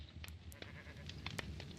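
Sheep in the Minecraft StoneBlock 4 modpack bleat several times in quick succession, short nasal game sound effects, moderately faint over a low background hum.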